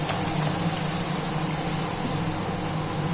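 Bhature, a puffy luchi-style fried bread, sizzling in hot oil in a kadai, a steady close-up bubbling hiss that runs unbroken throughout.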